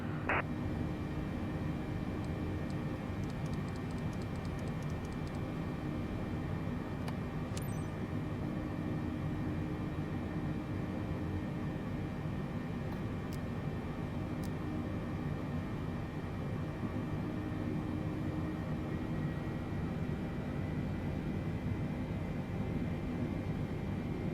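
Boeing 747-8 airliner taxiing in Microsoft Flight Simulator 2024, a steady low engine rumble and hum that holds evenly throughout with no voices over it.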